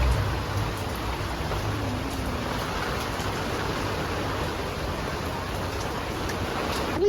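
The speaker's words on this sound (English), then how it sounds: "Yeah, it's just raining." Pouring rain falling in a steady, dense hiss with a faint low rumble beneath, constant and moderately loud across the whole stretch with no talk.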